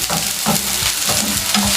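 Chopped onions sizzle and crackle in hot oil over medium heat in a pan, a loud close steady frying hiss with stirring scrapes and no speech.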